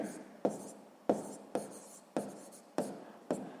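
Pen writing on paper during a sixth-grade maths exercise, six sharp quiet taps, each followed by a short scratchy stroke, in an even rhythm, close and soft.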